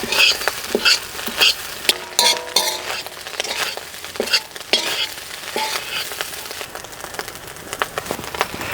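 Chilli powder, garam masala and coriander powder sizzle in oil in a pan while a metal spoon stirs and clinks against the pan in quick, uneven strokes for biryani, close and clear with no voices.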